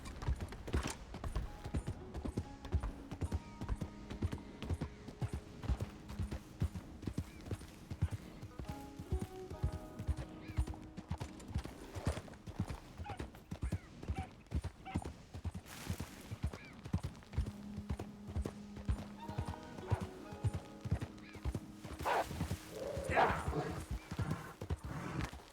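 A horse gallops in the video game Red Dead Redemption 2, with rapid, continuous hoofbeats throughout over game ambience.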